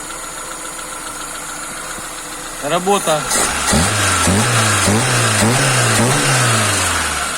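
A VAZ 2105 car engine fitted with a Solex carburetor idles, then revs up in repeated bursts. Loud and close, with a speaking voice over it.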